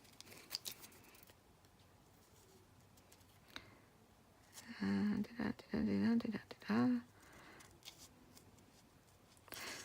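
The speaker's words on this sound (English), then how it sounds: "I'm just going to cut out a couple of hearts." Quiet room tone with a few faint taps, then several short bursts of scissors snipping paper, close by, in quick uneven cuts.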